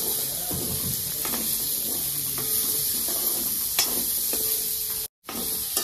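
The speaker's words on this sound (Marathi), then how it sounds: "कांदा आपल्याला लाल होईपर्यंत भाजायचा आहे।" Chopped onion frying in oil in a pan for a dum aloo recipe, a constant hissing sizzle with occasional stirring scrapes and a brief dropout near the end, no talking.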